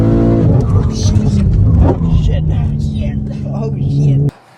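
An 800 WHP MK5 Supra on new ET Street R rear tires and a stock suspension with lowering springs roars under hard acceleration as the tires fail to hook, a loud, steady engine drone that cuts off sharply at the end.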